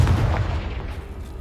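A Confringo blasting spell in Hogwarts Legacy goes off as a short, loud, low boom that fades into a rumbling tail.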